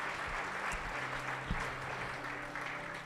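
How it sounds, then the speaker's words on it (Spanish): Church congregation applauding together, a steady dense wash of clapping that fills the space for a few seconds with no voices rising above it. "Denle un fuerte aplauso a Dios"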